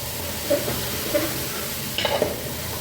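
Chopped cucumber, carrot, tomato, okra, sweet potato, potato and onion for a raw-mango sambar are stirred in a hot pot, giving a steady low sizzle with a few soft scraping clinks from the spoon and no talking.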